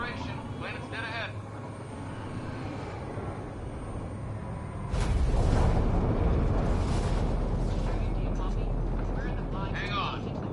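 Spaceship atmospheric entry in Mass Effect Andromeda: a rising roar of rumbling turbulence that suddenly swells into a loud, deep, sustained buffeting rush, with voices talking over it.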